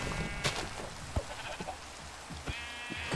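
Sheep in Minecraft bleat several times in short bursts, close and clear, over a soft hiss of game ambience.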